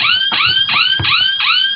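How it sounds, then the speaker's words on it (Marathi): A robotic safety sandal sets off its electronic siren alarm, a loud wailing tone that sweeps upward again and again at a fast, steady rhythm, close by and heard alone without talk. "हे जर दोन्ही सँडल टच केले एकमेकाला तर एक सायरन वाजायला लागतो"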